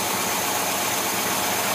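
A marine boat engine fitted with a Rochester Quadrajet carburetor runs with a loud, steady, rumbling idle that stays close and even throughout, with no voices.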